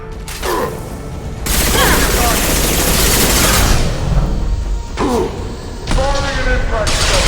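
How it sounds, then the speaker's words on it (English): Weapon fire in the video game Mass Effect 2 erupts in loud, close bursts of shots and booming impacts, with short gaps between volleys and a character's voice calling out in between. "Firing an impact shot!"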